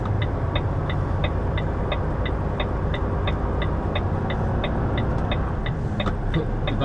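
An HGV truck's engine idling and rumbling steadily while it turns around to reverse onto a loading bay, with a regular ticking indicator clicking throughout, close and continuous.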